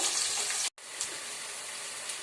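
Flat bean (chikkudu) curry frying in a pan with onions, a steady broadband sizzle running throughout, close and fairly quiet, with one brief cutout near the start.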